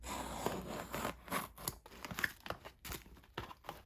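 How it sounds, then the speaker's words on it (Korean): A small delivery parcel torn open by hand, with close, irregular ripping and crinkling of paper or plastic packaging in short bursts, no talk. "일단 가장 작은 이 택배 먼저 뜯어볼게요"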